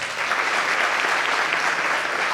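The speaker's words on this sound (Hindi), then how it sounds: "महिपाल जी के लिए जोरदार तालियां सर" An audience at an achievers' meeting gives loud, dense applause, continuous clapping from many hands throughout with no speech on top.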